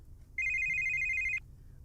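A telephone rings with a single sustained electronic trill about one second long, loud and alone over a low background hum.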